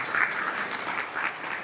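A crowd applauds at a retired police civil staff association gathering, with brief, moderately loud clapping that is dense and steady throughout.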